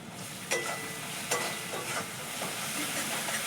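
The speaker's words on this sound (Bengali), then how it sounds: "মিট মশলাটা যখন একটু ভাজা হয়ে আসছে" Meat masala spice mix frying in a pan with a steady sizzle, broken by a few sharp scrapes of stirring, moderately close and fairly quiet.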